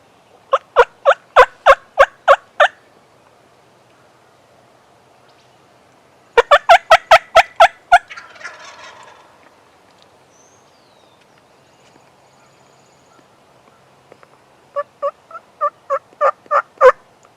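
Loud wild turkeys gobbling in Ohio in three bursts of rapid, rhythmic calls, with quiet pauses and a little rustling between them.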